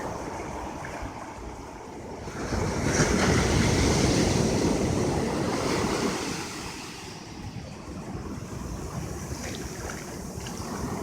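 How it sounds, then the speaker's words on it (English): Huge ocean waves crash onto a beach with a deep, roaring surge that swells and then recedes into a steady wash of surf, heavy wind buffeting the microphone throughout. "But look at the waves. Look how huge they are."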